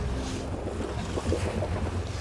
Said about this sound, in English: There's a lot bigger swell on the water today than yesterday.